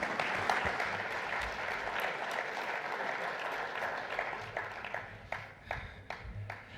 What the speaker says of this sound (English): Please clap them as they come off the stage.